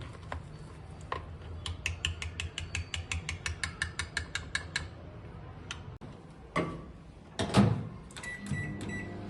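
A microwave oven cooking ragi mudde: its timer dial ratchets through a long run of quick, evenly spaced ticks, then a few heavier clunks and knocks from the appliance, all close and fairly quiet.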